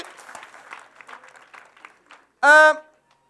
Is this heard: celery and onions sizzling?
no